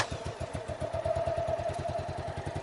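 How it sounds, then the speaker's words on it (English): A motorcycle engine fires and settles into a rapid even thumping beat, close and fairly loud, with a faint rising whine over the pulses. "going to start the motorcycle"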